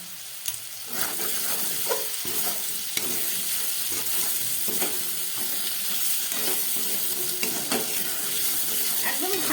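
Potato and pumpkin curry frying in a pan, a loud continuous sizzle with scraping stirs at irregular intervals, close and without talk.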